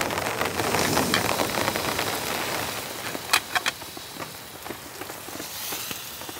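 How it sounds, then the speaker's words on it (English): Heavy rain drums steadily on a camping tent during a storm with strong wind gusts, a dense continuous hiss with a few sharper drop impacts, close and enveloping. "The rain and wind seems to come in like big waves."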